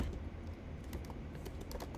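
Fingers tap steadily on a computer keyboard, a quiet, continuous run of light clicks under a low background hum.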